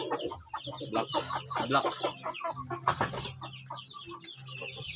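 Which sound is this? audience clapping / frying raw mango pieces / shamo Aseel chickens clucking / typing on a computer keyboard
shamo Aseel chickens clucking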